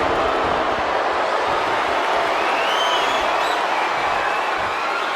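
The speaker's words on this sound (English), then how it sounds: "I feel the roar of the crowd just gets louder every trip we make out here." A large arena crowd in the WWE 2K25 wrestling video game roars steadily, a dense, loud wash of cheering and whooping that holds throughout with no break.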